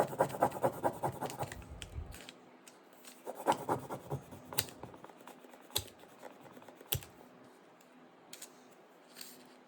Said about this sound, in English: You just want to scrape and pull, scrape and pull.